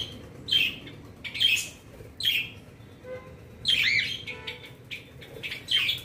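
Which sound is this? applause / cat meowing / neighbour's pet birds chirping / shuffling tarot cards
neighbour's pet birds chirping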